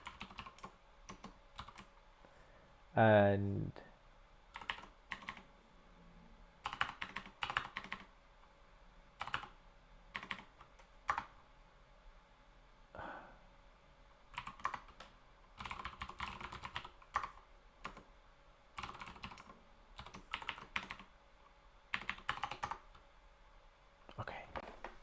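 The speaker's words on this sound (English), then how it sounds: "I'm going to type my password so you can't see my fingers" Someone types a password on a computer keyboard: quiet, irregular bursts of keystrokes and clicks with short pauses, plus one brief spoken word and a louder knock early on.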